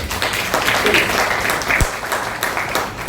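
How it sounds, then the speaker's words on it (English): A crowd claps steadily for a few seconds at a women lawyers' federation event in Karnataka, a dense patter of applause at moderate volume. "give her a big round of applause, please"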